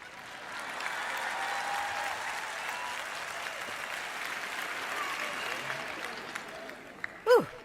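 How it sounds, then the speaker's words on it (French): Audience applauding at a sermon, a sustained, fairly even stretch of crowd clapping at moderate distance with faint voices mixed in, ending with a brief louder cheer or whoop near the close. "Si vous allez applaudir, ne vous arrêtez pas à mi-chemin."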